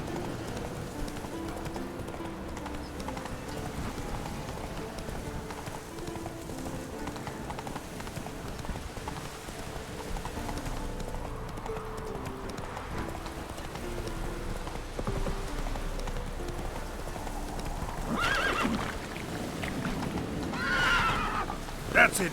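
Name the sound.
horse Roach galloping, hoofbeats, Witcher 3 video game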